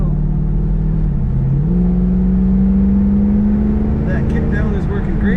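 A 1982 Chevrolet Corvette Collectors Edition accelerates steadily from inside the cabin, its engine note dropping briefly and then holding a higher steady drone as the transmission kicks down, with a voice talking over it.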